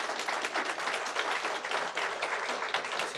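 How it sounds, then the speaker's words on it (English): Families are applauded at a Pasadena Police Department promotion ceremony for new lieutenants, a dense, even patter of many hands clapping that continues without pause, quiet and somewhat distant. "Let's give the families a round of applause."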